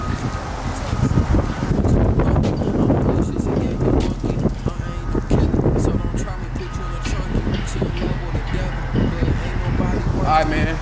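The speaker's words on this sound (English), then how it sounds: "Oh, it's windy, my boy. It's windy." Steady wind buffets the microphone with a constant low rumble, while voices speak intermittently over it.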